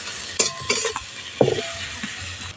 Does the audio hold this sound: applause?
no